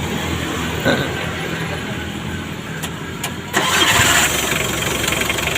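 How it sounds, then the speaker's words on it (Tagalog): A vehicle engine with a low-power fault rumbles steadily at idle, with a brief louder rev partway through; no voices. "paandarin mo para mapakinggan natin kung anong husga ng under ng makina"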